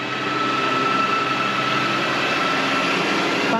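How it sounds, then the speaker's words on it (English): A tractor engine runs steadily near woodland in East Mendip, a loud, continuous droning rumble with no break and no voices over it. "Oh, it's the tractor again."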